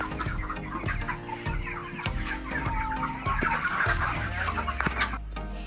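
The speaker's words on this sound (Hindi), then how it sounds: "हमारे मुर्गे" Several roosters and hens cluck close by in an irregular, busy chorus, continuing steadily throughout.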